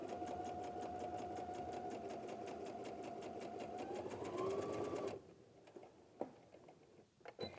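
Sewing machine stitching a quilt block, a steady rapid whirring hum that speeds up slightly near the end, then stops abruptly, leaving a few quiet clicks and handling sounds.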